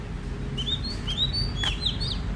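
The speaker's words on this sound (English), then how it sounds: "It's like an English countryside bird." An unfamiliar bird calls outdoors in a series of short, rising whistled chirps and sweeps, several notes spaced irregularly over a steady low background rumble, no talking.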